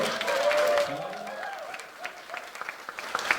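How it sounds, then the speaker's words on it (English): Audience applause at an event, a round of clapping that starts full and then thins into scattered claps, with some voices murmuring among the crowd. "Let's give him a round of applause before we get into the show."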